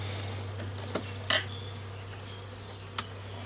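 Honeybees buzzing in an opened hive at an outdoor apiary, a faint steady drone under a few sharp clicks and knocks from handling the frames, with no talking.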